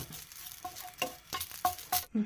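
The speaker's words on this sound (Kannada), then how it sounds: "ಕರಿಬೇವು ಹುರ್ಕೊಂಬಿಡಣ್ರಿ" Fresh, moist curry leaves roasting in a pan for a North Karnataka masala blend, giving soft crackles and pops in short bursts over a gentle sizzle, close and fairly quiet with no talking.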